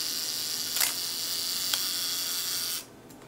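A Minolta XK manual film camera's mechanical self-timer whirs steadily for a few seconds with faint ticks, then cuts off abruptly.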